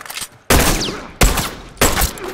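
Three sharp, loud rifle shots or short bursts ring out close by in The Last of Us Remastered, each with a hard crack and a decaying echo, evenly spaced about three quarters of a second apart.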